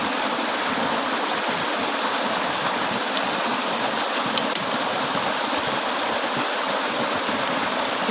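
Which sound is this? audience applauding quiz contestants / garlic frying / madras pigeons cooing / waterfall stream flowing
waterfall stream flowing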